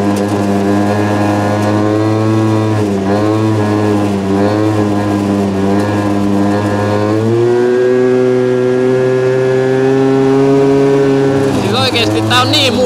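A car accelerates through a roundabout, its engine droning steadily loud and close while the pitch climbs and shifts through the gears, with a rise in revs near the end.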